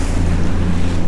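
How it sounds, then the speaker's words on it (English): Big waves on Lake Saint Clair slam against a Bass Tracker 190TX boat, a loud, close rush of churning water and hull impacts under wind, with no talking. "Oh, that's a big wave."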